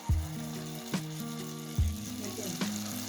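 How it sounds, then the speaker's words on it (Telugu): Paneer popcorn deep-frying in hot oil gives a steady close sizzle, with a few dull knocks and clinks from the pan and several low tonal hums running underneath. "సో ఫస్ట్ మనం వీటిని డీప్ ఫ్రై చేసేద్దాం."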